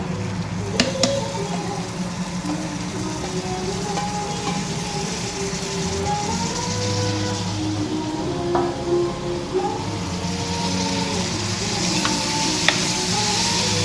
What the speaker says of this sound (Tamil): தக்காளி போட்டு நல்லா கிண்டி விடுங்க.